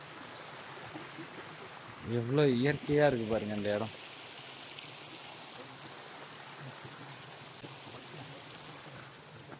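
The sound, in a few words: flowing stream water near Moola Kona waterfalls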